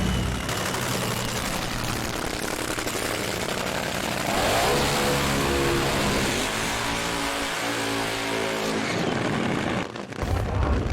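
A front-engine AA/FD top fuel dragster roars loud and close at a drag race meet, a dense continuous blast with harmonic bands rising and falling as the throttle changes, cutting off abruptly near the end.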